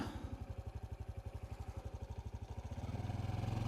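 A motorcycle engine runs close by with a rapid, pulsing rhythmic thump that rises in pitch and loudness toward the end as it revs up.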